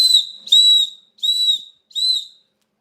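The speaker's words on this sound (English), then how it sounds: "they going to hear this whistle" Shrill emergency whistle from a bug-out bag kit blown in four sharp, piercing blasts close by, each about half a second, separated by brief pauses with no other sound.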